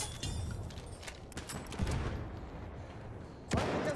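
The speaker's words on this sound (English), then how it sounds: "Feindliches Maschinengewehr!" Enemy machine gun fire in a Battlefield 1 battle, rapid bursts crackling over a dense wartime din, with a heavier blast near the start and another louder burst toward the end.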